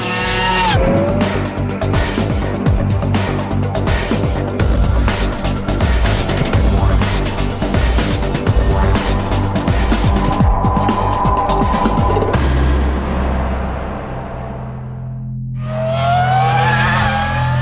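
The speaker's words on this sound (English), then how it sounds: "If you're serious about motor racing, this is what you drive. The 2004 Formula One car." A 2004 Formula One car roars close by, its high-pitched engine wailing through rapid gear changes and revving, then fading and rising again as it passes.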